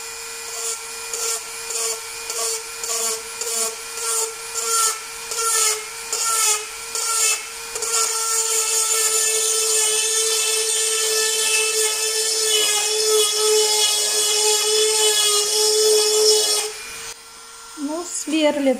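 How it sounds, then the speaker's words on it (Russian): A drill boring a hole into a thick piece of stone, first in short repeated bursts, then a sustained steady grinding whine that cuts off near the end. "Не знаю, как у меня получится просверлить отверстие. Буду сверлить вот в этом месте."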